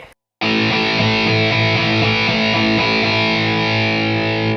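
Electric guitar driven through a distortion effect with its volume knob lowered to 3 and a switch engaged, sustaining a loud, dense chord with a few rhythmic strums that rings steadily and then cuts off.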